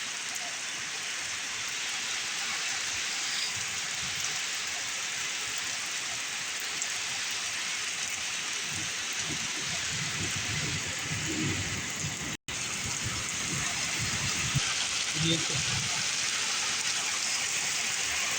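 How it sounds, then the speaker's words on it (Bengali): Heavy, steady downpour pours down in a continuous close wash of rain hitting surfaces, with no voices and a brief dropout partway through; no distinct thunderclap stands out. "দেখুন এই যে এখন কীভাবে ঝুম বৃষ্টি হচ্ছে।"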